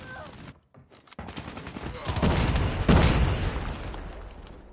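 Heavy automatic gunfire in Call of Duty Mobile, brief bursts after a short gap giving way to a loud, sustained barrage with booming impacts mixed in.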